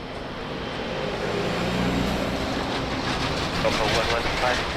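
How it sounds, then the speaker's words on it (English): Jet airliners such as an A330 and a 777 at Lisbon Airport run their engines at full power, a loud, steady broadband roar that holds throughout without a break. "All the fans are working max power right now"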